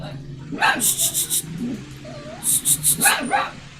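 A dog barks outside in two bursts of four quick, sharp yips, somewhat distant, separated by a pause with a brief human voice in between.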